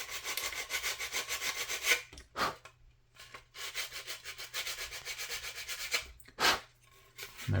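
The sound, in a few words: sanding stick sanding plastic model ship part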